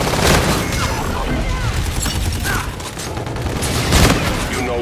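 Sniper rifles fire in the Call of Duty: Infinite Warfare beta, with sharp booming shots and gunfire bursts, including a loud crack near the end, over busy game sounds and a talking voice.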